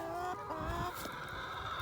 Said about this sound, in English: My chickens follow me because they know my voice